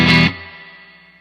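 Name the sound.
guitar through UAFX Dream Marshall amp model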